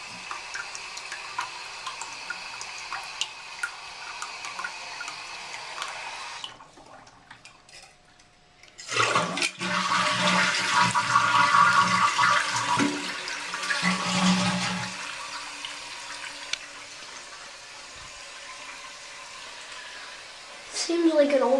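A 1997 Sterling Windham toilet is flushed in an older bathroom: after quiet handling and a few small clicks, a loud rushing gush of water surges and drains, then eases into a softer tank-refilling trickle with a clunk at the end.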